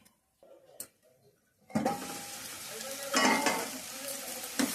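Fish curry masala frying in a pan, a dense steady sizzle that starts suddenly after near silence and carries on loud and close, with brief louder surges of spitting.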